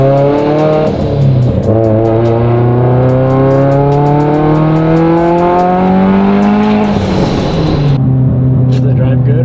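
A fully built Mitsubishi Evo 10 engine revs loud and close, its note climbing steadily in long rising pulls with a brief drop and re-rev, dense harmonic roar throughout.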